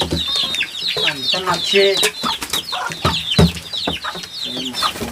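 Chickens cluck repeatedly and close by in a busy rural yard, with some speech mixed in among the bird calls.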